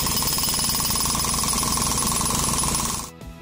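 A jackhammer pounds steadily and loudly in a fast, unbroken rattle, then cuts off abruptly near the end.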